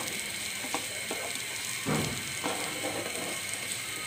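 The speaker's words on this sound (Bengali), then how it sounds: "পেঁয়াজটি একটু হালকা ভেজে নিব" Onion lightly frying in a little oil, a steady close hiss broken by a few scraping clicks of a spatula against the pan, moderate level, with no voices.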